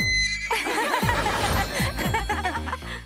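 A horse whinnies loudly and close, its shaky neigh rising and falling, with snorting breaths and a chuckle-like quaver.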